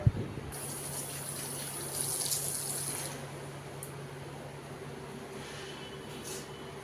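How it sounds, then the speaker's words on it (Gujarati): Hands are washed under a running tap at a home sink, a steady soft rush of water with a brief splash at the start, fairly faint and with no talking. "ચાલો હાથ બાદ ધોઈ લઈ બરાબર"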